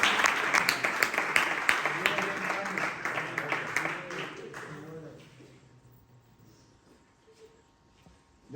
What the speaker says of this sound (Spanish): Un aplauso para el Jesús.